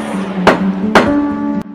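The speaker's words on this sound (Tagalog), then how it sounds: "Nang marinig namin ang paghampas ng martilyo ng hukom" A gavel strikes twice, sharp wooden cracks close by, then a lighter third tap, over a steady musical drone.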